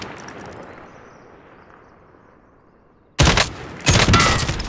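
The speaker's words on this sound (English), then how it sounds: "Listen for the sound of armor breaking" Armored target in Call of Duty: Modern Warfare taking gunfire: a quiet fading tail first, then a sudden loud burst of rapid shots with sharp metallic clangs as the armor breaks, a second burst following.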